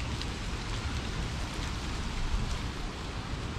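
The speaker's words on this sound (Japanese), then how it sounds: "今雨宿りしてます" Steady rain falls at an agricultural center's weeping plum garden, a dense, even hiss and patter that goes on without a break, with nothing else heard over it.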